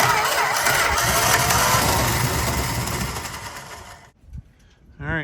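1964 Plymouth Valiant with a Slant 6 engine cranking and trying to start, a loud rough churning that fades out, then a short sputter and a rising whirr near the end, with a voice speaking.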